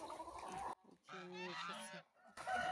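Farmyard geese honk in a few loud nasal bursts close by, with short pauses between calls.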